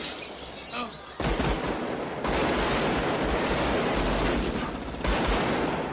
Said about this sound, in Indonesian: Akhirnya dia kena tembak.